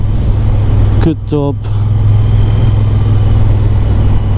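A Triumph Bonneville T120 twin-cylinder motorcycle engine rumbles loud and continuous under riding, with a man's brief exclamation cutting over it early before the low drone carries on alone.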